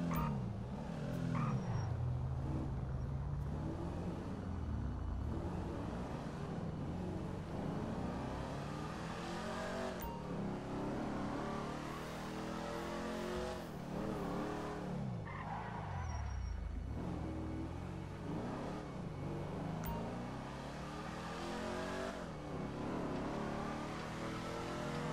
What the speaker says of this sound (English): This thing's freaking loud, guys, eh? Two straight piped exhaust.